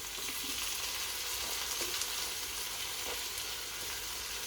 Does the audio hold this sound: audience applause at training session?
no